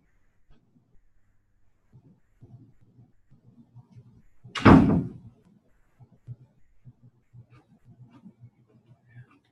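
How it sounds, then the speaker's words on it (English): A door swings shut in a lecture room with a single firm thud and brief rattle midway, set against soft murmuring speech before and after. "let me close this door for a sec."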